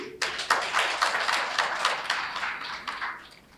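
A workshop audience claps for a communications officer being thanked, a short burst of dense, fairly close applause lasting a few seconds before tapering off.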